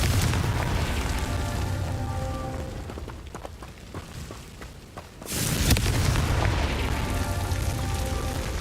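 A fiery Confringo spell explosion in Hogwarts Legacy bursts out loud, a heavy rumbling blast that swells and holds before a second sharp boom erupts, with no voices present.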